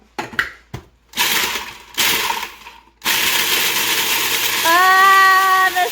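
A kitchen grinder grinds ingredients for homemade English muffins: a few short stuttering bursts, then a steady, loud whirring grind with a rising whine late in the run.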